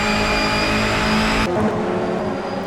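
Honda touring race cars in a WTCC racing game at Sebring roar loudly with a sustained high engine drone, then the pitch drops sharply as the car passes and continues revving.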